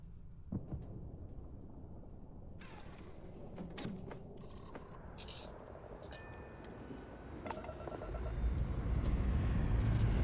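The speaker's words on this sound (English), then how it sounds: "Thrust is firing." Spaceship thrusters fire in the video game Starfield as a low, steady engine rumble that swells louder toward the end, with a few faint mechanical clicks above it.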